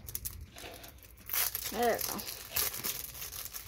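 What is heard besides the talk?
opening plastic packaging of Pokemon promo card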